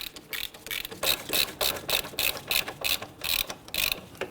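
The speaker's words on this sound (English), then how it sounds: "we'll go ahead and pop our ratchet on there. Then we'll snug them down" A hand ratchet tightens bolts on the front right CV axle of a 2011-2015 Kia Sorento, with about a dozen crisp, close clicking bursts in a steady back-and-forth rhythm and no talk.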